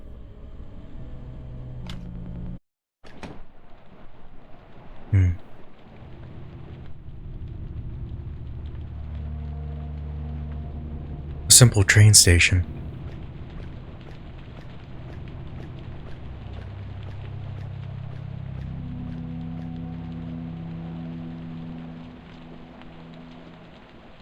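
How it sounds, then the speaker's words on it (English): Steady rain falls at a simple train station in the video game Nophenia, a soft continuous hiss beneath low ambient tones, with a few sharp clicks and a brief louder burst midway, while a voice speaks briefly early on. "You don't seem bothered by the rain."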